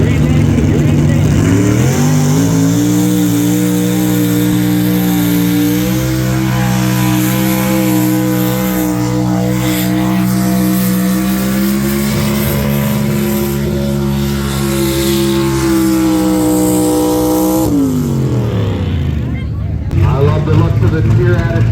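A 1974 GMC pulling truck at a tractor pull roars loudly and steadily at high revs for about twenty seconds, its engine pitch climbing and holding before dropping away, with an announcer talking over it.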